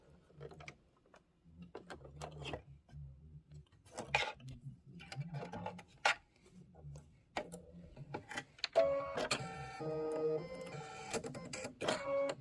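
A Kimberbell embroidery machine stitches a tack-down in short mechanical bursts, whirring and clicking close by, building to a continuous busy stitching run near the end.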